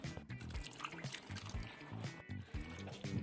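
Beef cooking water pours into a pot of stew, heard as close, uneven splashes and drips with brief gurgling bursts and short pauses between pours.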